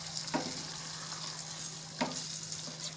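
Paneer being stirred into mixed vegetables cooking in a pan, a low steady sizzle with two brief spatula scrapes and a faint clink.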